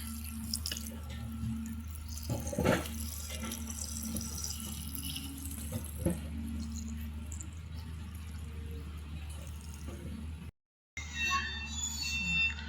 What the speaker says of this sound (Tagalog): Ilalagyan ko na po na itong gata.